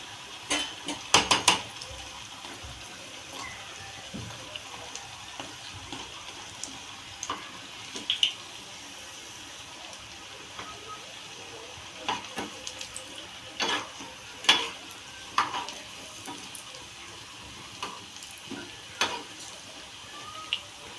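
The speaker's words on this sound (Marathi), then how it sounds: "आता अशी दुसरी बाजू बाजू भाजून घ्यायची तळून घ्यायची" Poha vada frying in oil on its second side, a soft steady sizzle broken by occasional close clinks and scrapes of a utensil against the pan.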